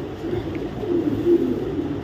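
A female racing pigeon, a 2024 club bird, coos softly and steadily nearby, low throaty murmurs rising and falling over about two seconds with no talking.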